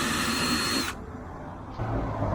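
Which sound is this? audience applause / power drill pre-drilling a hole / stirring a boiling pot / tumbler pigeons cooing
power drill pre-drilling a hole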